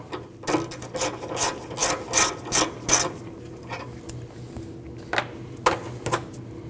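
A ratchet turns out a 10 mm bolt holding the AC condenser line on a Nissan NV2500 van, giving close, rhythmic clicking strokes, then a quiet gap and a few last clicks.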